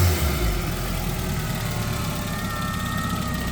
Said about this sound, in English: There's that little whine again.